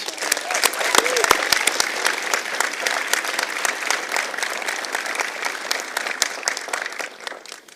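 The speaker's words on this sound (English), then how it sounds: "I think we should give him another round of applause." Sustained applause from a large audience at a university convocation ceremony, dense clapping at an even level that fades slightly toward the end.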